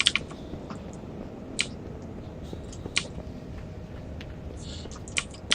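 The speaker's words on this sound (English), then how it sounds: "I know you guys are hearing my mechanical keyboard too." Clicky blue-switch keys on a CM Storm Rapid Eye mechanical keyboard tapped in sparse bursts, faint and close behind a quiet background hum.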